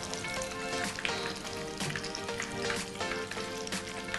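Steady, crackling sizzle of tofu frying in hot oil for Bruneian tauhu sumbat, dense and continuous with no voices.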